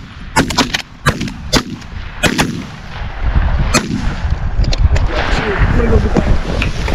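Gunfire rings out in a video game: a rapid cluster of sharp, loud shots at the start, a few more scattered cracks, then a steady rushing background.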